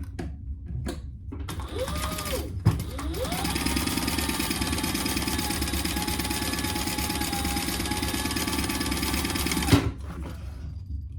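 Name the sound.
sewing machine top stitching a crossbody bag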